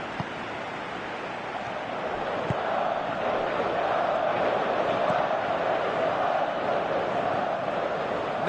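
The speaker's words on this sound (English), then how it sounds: "at least the crowd are appreciative of his efforts" A stadium crowd roars with a continuous, swelling wash of noise during a football match in the video game PES 2018, with faint commentary underneath.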